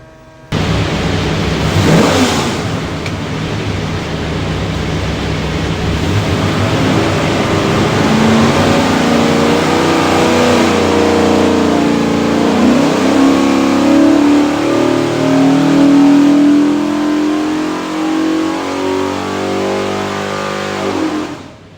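A 408 Windsor Ford V8 built for a 1992 F150 roars loud and steady through a long full-throttle pull on a dyno, pitch climbing as it revs up, with no talk over it.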